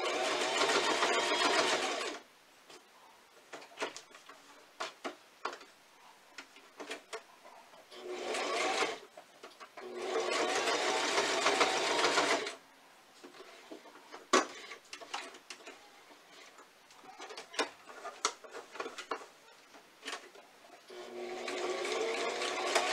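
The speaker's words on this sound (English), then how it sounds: "I'm trying to go over that previous seam that's on there." A sewing machine stitches over an existing seam on a fabric mask in several rapid, buzzing bursts of a few seconds each, close and loud. Quieter clicks and handling sounds fall between the bursts.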